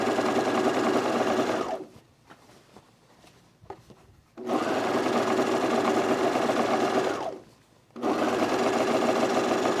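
A sewing machine runs in two long steady bursts stitching the inseam of a pair of pants, loud and close, with a pause of handling and fabric rustle between the runs.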